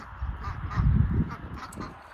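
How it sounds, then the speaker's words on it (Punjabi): Farm ducks quack and honk in a short burst of a few calls at moderate distance, fairly faint over light background noise on a rural farm. "ਅੱਛਾ ਨਾਲ ਬੱਤਕਾਂ ਵੀ ਰੱਖੀਆਂ ਇੱਥੇ"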